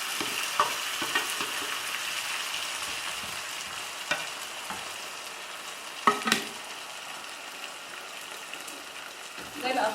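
Onion cooks gently in a pan for pizza sauce, giving a steady, soft sizzle with occasional stirring knocks and clinks throughout, close and moderately quiet.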